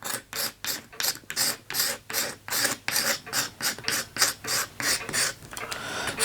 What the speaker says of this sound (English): So we'll start up here and we'll just gently scrape it